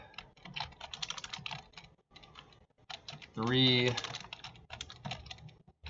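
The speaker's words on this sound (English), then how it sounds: "Keep hitting the keyboard here." Computer keyboard typing comes in quick, irregular bursts of key clicks near the microphone, running under a man's counting speech with a brief pause midway.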